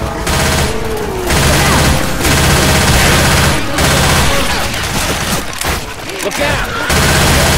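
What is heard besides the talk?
gunfire shooting zombies in Left 4 Dead 2 video game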